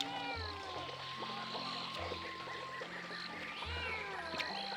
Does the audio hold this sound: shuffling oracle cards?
no